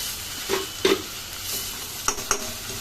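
A ground spice paste for a pointed gourd dish sautés in a pan with a low sizzle, broken by several distinct scrapes and clinks of a spoon stirring against the metal; no one speaks.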